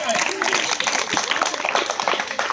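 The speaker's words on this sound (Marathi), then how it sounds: "त्याच्यासाठी जोरदार टाळ्या" A short burst of clapping from a small group at a general knowledge quiz, fairly close, with voices talking over it.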